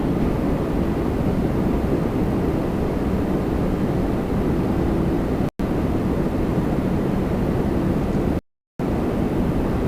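A Boeing 777 lands on runway 24 left at Toronto Pearson, giving a loud, steady, broadband jet roar that fills the whole stretch, with two brief dropouts and wind buffeting the microphone.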